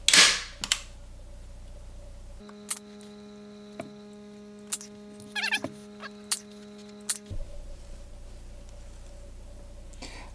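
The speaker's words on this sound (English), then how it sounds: "so now let's staple this up" An upholstery stapler fires staples into fabric on a Lazy Boy recliner during a slide rail replacement: a loud first snap, then about half a dozen sharp separate cracks at uneven intervals over a steady electrical hum.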